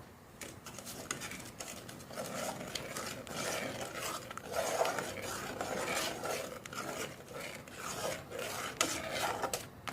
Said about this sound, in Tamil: சர்க்கரை போட்டு நல்லா கிண்டி விடுங்க